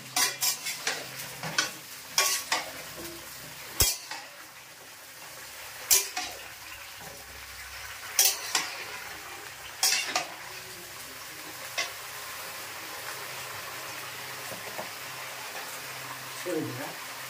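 Pointed gourd fries in a pan with a constant sizzle while a utensil stirs and scrapes, giving sharp, irregular clinks and knocks against the metal throughout.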